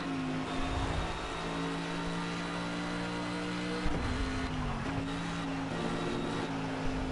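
A BMW race car's engine in the racing game Project Cars holds a steady, droning hum that briefly dips and shifts pitch midway, like a gear change, then carries on evenly.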